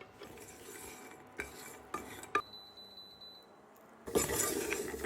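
Almonds toast in a frying pan while a utensil stirs them, giving a few light clinks and scrapes before a louder, steady sizzling rush near the end.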